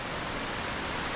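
A tiny mountain creek flows below a rock ledge, giving a steady, even rush of water that fills the whole moment with no other sounds.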